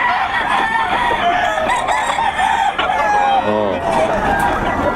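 Roosters crow and chickens cluck nearby in a continuous, busy chorus of overlapping calls, with a person briefly speaking.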